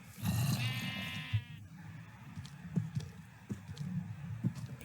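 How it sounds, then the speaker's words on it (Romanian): Sheep bleats from Minecraft ring out near and loud in a long wavering call at the start, followed by softer short grunting game sounds. "E oaia aia."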